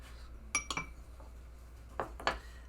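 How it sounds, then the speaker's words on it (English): A utensil mixes salt and sugar for English muffin dough, giving a few light clinks against a bowl in two brief clusters over quiet room tone. "give that a quick mix up till it is nice and combined"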